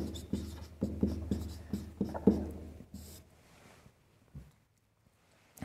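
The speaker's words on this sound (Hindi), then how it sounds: "अब बंटन क्या है वो मैं आपके लिए लिख देता हूं" A frequency table being written by hand with a pen or chalk, heard as a close series of short tapping and scratching strokes that thin out into near silence with a final faint tap.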